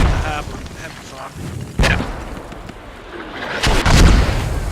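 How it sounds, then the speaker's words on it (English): Mortar fire in a multiplayer war video game, booming blasts near a hemp farm, several heavy thumps a few seconds apart over rumbling battlefield noise and muffled chatter. "Mortar's now coming from the hab on hemp farm."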